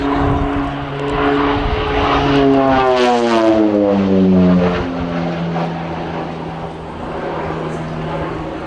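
A North American Rockwell OV-10 Bronco twin-propeller aircraft makes a simulated strafing pass at an air festival, its engine drone rising and sweeping down in pitch as it roars past close by.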